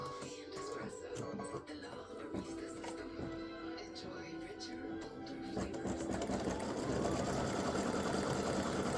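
Embroidery machine sewing a satin stitch on a Santa legs and bow appliqué, a quiet, rapid, steady stitching rhythm with faint background voice underneath.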